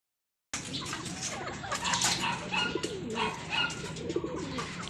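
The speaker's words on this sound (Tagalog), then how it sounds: "Meron na dumating ditong kalapate." Several pigeons coo in low, throaty rolling calls at a loft where birds are returning, with overlapping murmurs and some rustling and other birds nearby, moderately close.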